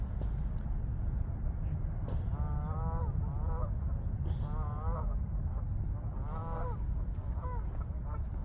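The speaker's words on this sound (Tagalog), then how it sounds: "Hindi po yan duck, kundi mga swan po yan." Swans in a park give several bursts of nasal, wavering honks over a constant low rumble of wind and background noise, each call lasting under a second and spaced irregularly.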